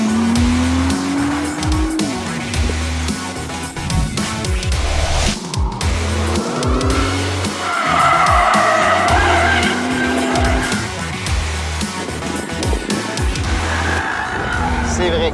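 A 2017 Nissan GT-R launching hard from standstill to 100 km/h, with loud engine revs climbing through gear changes and tyre squeal, heard close and continuous, with someone talking over part of it.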